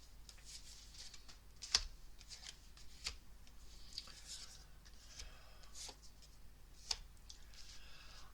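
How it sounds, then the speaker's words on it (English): Tarot cards shuffle softly and repeatedly, quiet riffles and papery slides with a few sharper taps, close by and faint. "Feel like I want to keep shuffling with this."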